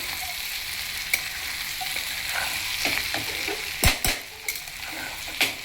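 Okra frying with chickpeas and cashews, Andhra style, gives off a steady, close sizzle while a utensil stirs and scrapes the pan, with a few sharper clinks of metal near the end and no talking.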